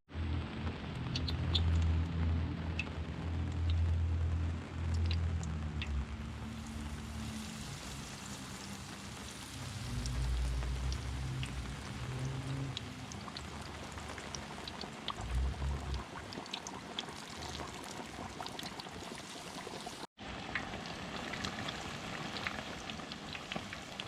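Beer-battered pike deep-frying in hot oil gives a steady, rain-like crackle and sizzle at a fairly low level, with a short break near the end.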